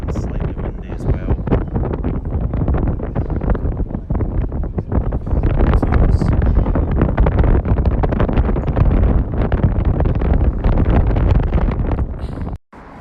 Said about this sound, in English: And slightly windy as well.